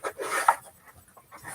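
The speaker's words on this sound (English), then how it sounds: "Please excuse the noise because my doggies have decided they wanted to play." Pet dogs playing indoors, with short bursts of panting and scuffling, a sharp yelp-like peak midway and a louder burst at the end, fairly close.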